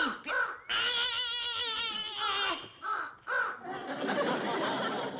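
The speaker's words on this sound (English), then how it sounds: "That's a scarecrow you're setting on, you stupid crow." A crow caws loudly and close by in a run of harsh, rasping calls, some drawn out and some clipped, with short gaps between them and a noisy rustle at the end.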